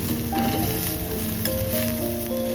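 Bitter gourd curry with coconut sizzling hard in a pan while being stirred, a dense continuous hiss and crackle, close and loud, with no speech over it.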